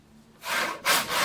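A handsaw cuts through a wooden board in two long, rasping strokes, the first starting after a quiet moment and the second louder and harsher, close up with no talking.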